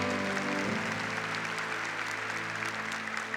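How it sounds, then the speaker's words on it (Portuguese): Broad, steady applause from a church congregation fills the clip, with a low sustained musical tone underneath throughout. "Pode aplaudir a palavra do Senhor"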